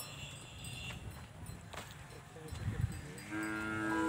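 A Nili-Ravi buffalo calf lows among livestock on a farm, its call rising in the last second over steady outdoor background noise and faint voices.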